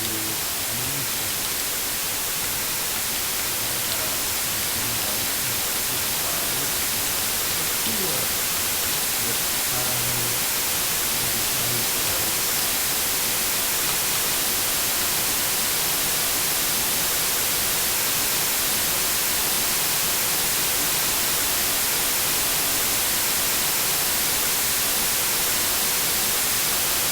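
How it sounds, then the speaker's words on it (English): Steady, loud white noise generated by a Flutter audio app, a flat hiss running unbroken for nearly half a minute with no talk over it. "The white noise needs an animation."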